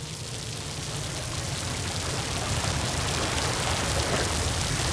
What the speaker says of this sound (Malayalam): ഈശ്വരാ മഴ.